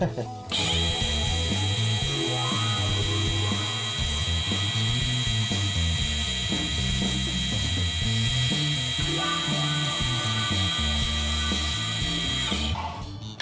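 A belt grinder finishes a stainless steel bolster on a knife, giving a continuous, fairly loud abrasive whine with a steady mechanical hum that runs almost the whole length and cuts off near the end.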